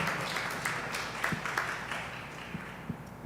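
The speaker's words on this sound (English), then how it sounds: "let's give him another applause because that deserves an applause." A church congregation gives a short, thinning round of applause, scattered claps fading over a few seconds, with individual hand claps standing out near the end.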